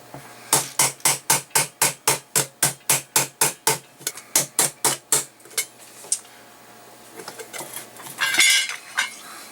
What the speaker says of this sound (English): Put it back on for our fitting, and once again resume the pounding.